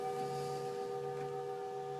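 A Tibetan singing bowl sustains a soft, steady ringing tone with layered overtones that marks an exhalation in a breathing exercise, heard alone without voices.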